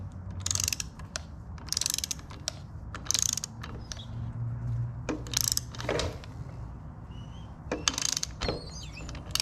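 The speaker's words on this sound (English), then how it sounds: "So I have my torque wrench set to 50 foot-pounds." Mechanical clicking and ratcheting as a torque wrench tightens a bolt on the PTO clutch of a Cub Cadet Model 2206 lawn tractor, with repeated bursts of sharp clicks and low mechanical rumbling throughout.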